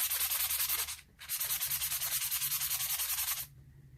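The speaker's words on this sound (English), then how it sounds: "I'm just going to sand up the edges that are going to be connected to anything really well" Edges of washed, upcycled firefighter gear fabric are sanded for a junk journal cover, giving close, steady back-and-forth rasping strokes with a brief pause near the start before they resume and stop.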